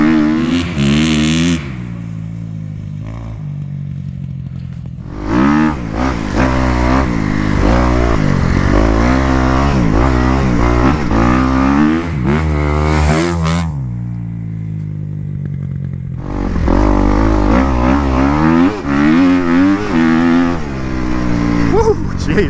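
A Kawasaki KX250 dirt bike engine revs hard while being ridden, its buzzing note rising and falling through throttle changes with a short quieter lull mid-ride, loud and close.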